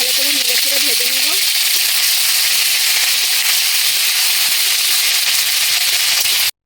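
Spice masala sizzles in hot oil in a Bengali kitchen, a loud continuous hiss that fills the whole stretch before cutting off abruptly at the end; a voice is briefly heard near the start.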